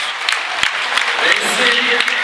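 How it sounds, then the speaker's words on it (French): The home crowd at a rugby youth final between Tours and Béziers applauds a try with steady, sustained clapping across the stand, while a commentator speaks over it. "Et c'est fortement applaudi par le public local."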